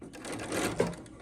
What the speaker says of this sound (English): I'm going to back stitch again